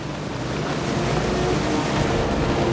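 Boat out on the open sea, a constant loud rumble of engine and rushing water with wind noise, steady throughout with no talking.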